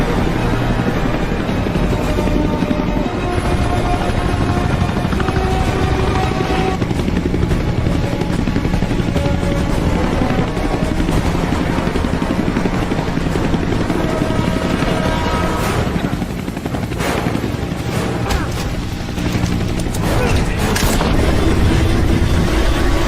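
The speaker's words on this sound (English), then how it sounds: "Helicopter going after Walker." A helicopter thunders through an action movie chase, its heavy rotor chop and engine roar loud and constant, with crashes, rumbles and brief voices mixed in.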